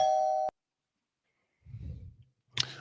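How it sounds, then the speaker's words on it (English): A school bell gives a single short ring lasting about half a second, loud and close, then falls silent; later a low murmur of voices and a brief bright clatter follow. "That's the bell. That's the bell. We used to have that bell in high school."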